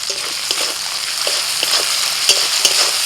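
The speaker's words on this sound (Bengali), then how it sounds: "ভাজতে ভাজতে টমেটোটা একেবারে নরম হয়ে গেছে" Onion and finely chopped tomato with salt fry in a pan, giving a steady close sizzle with occasional scrapes and taps of a stirring spoon.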